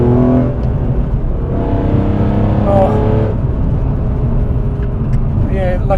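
Naturally aspirated engine of a BMW M3 CSL drones from inside the car while driving over a bumpy road, a steady low growl with slight rises in pitch, a short exclamation from an occupant near the start.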